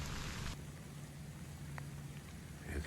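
Heavy rain pours steadily at a barn during deer season, a faint continuous hiss with a brief sharper burst at the start and a few scattered drips.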